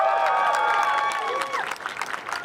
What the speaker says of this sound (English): Give a big applause to GFN!